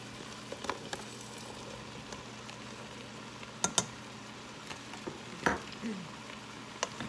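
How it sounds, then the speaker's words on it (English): Sausage tossed into a pan of cooking vegetables, giving a steady low sizzle with a few sharp clatters and pan knocks partway through, close by and without talk. "now I'm just gonna throw the sausage in with the vegetables"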